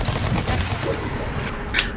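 Gunfire from turrets in the online shooter Blacklight: Retribution, a steady dense crackle of rapid shots running under a busy game mix with a louder burst near the end.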